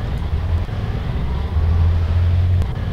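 Vehicle engine idling in the Arma 3 video game, a steady low rumble holding throughout, with a slightly louder stretch in the second half.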